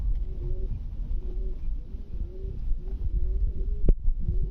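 Giribaj pigeons coo softly in a repeated rhythmic pattern, several low calls close by over rumbling background noise and one sharp click.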